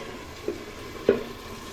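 Chicken curry sizzling in a pan as it is stirred, a soft steady fry with two brief scraping knocks of the spoon against the pan, close but subdued.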